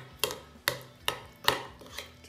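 A spoon stirs a garlic mayonnaise sauce seasoned with salt, pepper and olive oil in a dish, making four evenly spaced clinks and scrapes about half a second apart, close and fairly quiet.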